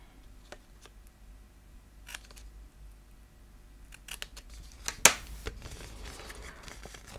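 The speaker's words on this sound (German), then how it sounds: "hier unten schneide ich jetzt alles ein" Scissors cutting paper gift wrap for a snowman gift package: scattered soft snips and rustles, then a cluster of crisp, close cuts with one sharp loud snip near the end, against a quiet room.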